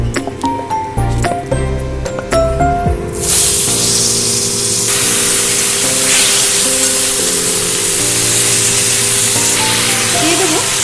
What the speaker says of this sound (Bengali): এবারে তেলের মধ্যে ভেজে নেব।